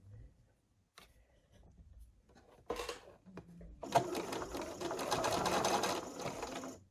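A sewing machine stitches quilt squares together for a Southwest Snowball quilt, starting with a few soft clicks and handling noises, then running in a steady, loud whirring burst that continues through the last few seconds.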